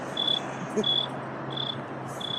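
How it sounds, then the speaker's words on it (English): A large cricket chirps loudly and close by in short, evenly spaced trills over a faint steady hum, with a brief muffled voice in between. "The big ass cricket."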